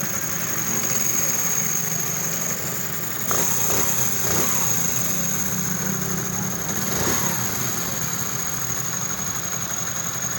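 A motorcycle engine idling after a timing chain replacement, a steady, even running hum with a faint high whine, close and continuous throughout, with no talk.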